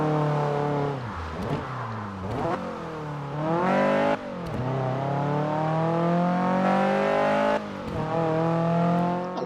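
From the driver's seat in Forza Horizon 4, a car engine revs hard through repeated rising gear pulls, pitch climbing then dropping at each shift, loud and continuous with no talk.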